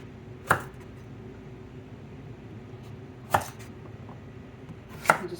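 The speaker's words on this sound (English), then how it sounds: "you can start cutting up your carrots" A knife strikes a cutting board three times at uneven intervals, crisp and close against quiet kitchen background, as carrots are cut into chunks.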